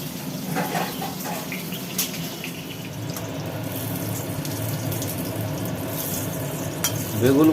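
Potatoes fry in a pan with a continuous close sizzle and a couple of light clinks, with no talking over it.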